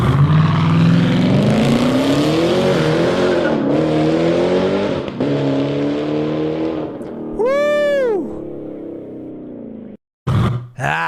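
A Mopar muscle car engine roars loud and close, rising and falling in pitch as it revs hard for several seconds, with a sharp whistling sweep near the end before a brief cut and one last burst.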